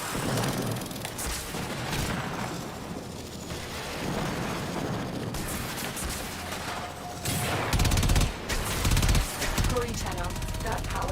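Rapid gunfire and blasts from the video game Warframe, with dense volleys continuing through the scene under a loud ambient soundtrack. Heavier bursts come near the end, and voices may be heard faintly.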